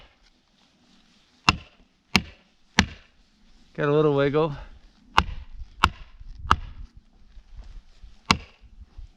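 Felling wedges are struck by hand on a trail-clearing job, giving about eight sharp, loud, widely spaced strikes, with a brief wavering whistle-like tone and a short spoken remark between them.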